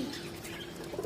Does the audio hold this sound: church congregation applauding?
no